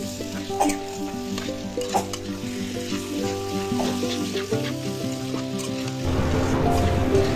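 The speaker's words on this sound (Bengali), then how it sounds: "তারপর আমাদের মাংস কুচিগুলো এই আদা রসুনের যে পেস্ট, মশলার যে পেস্ট, ওই পেস্টের মধ্যে আমরা দিয়ে দেব। দেওয়ার পর ভালো করে নেড়ে চেড়ে নেব।" Chopped chicken pieces sizzle and fry loudly in a ginger-garlic spice paste while being stirred, a steady dense crackle with scraping stirs, growing brighter and more intense toward the end.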